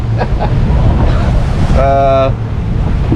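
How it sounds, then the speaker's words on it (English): Strong wind buffets an anchored fishing boat offshore in the Gulf, 85 miles west of Tampa, a loud, constant roar with water wash and a brief tonal whine partway through. "wind's picked up a little bit, so we've been on anchor"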